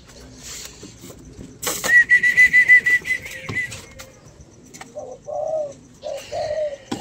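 Spotted doves cooing up close in a steady series of soft, rhythmic coos, with brief rustles and wing flutters mixed in.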